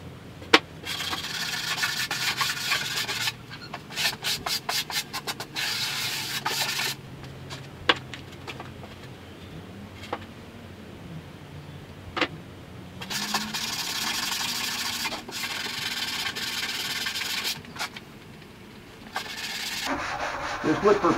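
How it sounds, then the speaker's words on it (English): Hand sanding of wooden end walls to knock down high points: steady rubbing strokes in bursts with short pauses, close and moderately loud. "Just look for potential high points and then just kind of sand them down a bit."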